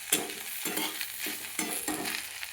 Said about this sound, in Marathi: आता आपण शेंगदाण्याचा कूट टाकून घेऊया आणि आता हलवून घेऊया